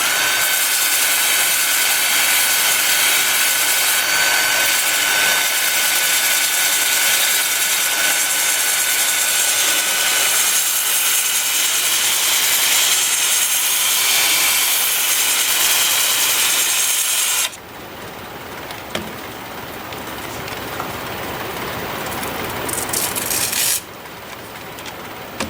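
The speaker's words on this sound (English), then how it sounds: "I got the lathe spinning in reverse at about 300 RPM." A wood lathe spinning a walnut bowl in reverse at about 300 RPM gives a loud, steady broadband roar with a constant hum, dropping to a quieter, thinner whir partway through and then rising slightly again.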